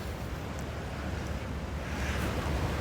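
A high, muddy river rushes steadily near the Old Mill weir, a constant broad roar of flowing water mixed with wind buffeting the microphone, with no talking.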